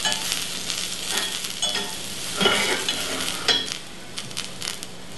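Mixed vegetables and tomatoes sauté in a hot pan, giving a steady broadband sizzle with scraping stir strokes and a few louder clatters from a spoon against the pan.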